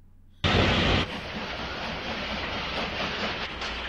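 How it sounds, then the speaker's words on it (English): A train moving along rails in a film scene comes in suddenly with a loud rushing burst, then settles into a steady, close roar with faint rhythmic rail clatter. "That's a really slow train, though."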